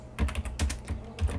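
Fast, close clicking of keys on a computer keyboard as a name is typed into a Blender workspace, several quick keystrokes in an uneven burst with no talking.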